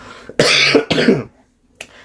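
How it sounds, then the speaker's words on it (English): Two harsh, close coughs in quick succession, followed by silence and a faint short throat sound. "As you heard from that cough"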